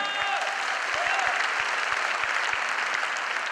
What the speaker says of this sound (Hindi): अपने लिए एक बार जोरदार तालियां